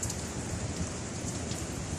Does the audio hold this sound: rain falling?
yes